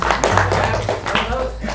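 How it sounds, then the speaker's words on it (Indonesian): A brief round of audience applause for an Islamic devotional music group from Pekalongan, a dense clatter of hands lasting under two seconds, with a voice speaking over it. "Boleh tepuk tangan lu buat teman-teman."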